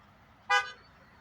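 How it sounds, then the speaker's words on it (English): A single short blast of a truck horn passing on a road, one loud clear honk lasting a fraction of a second against quiet background. "How did I know to point again to hear his first horn?"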